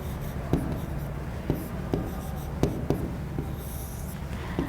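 Pen or marker strokes writing an electrical engineering equation on a board, heard as a steady scratchy rubbing broken by sharp taps at each stroke, close and alone with no talk.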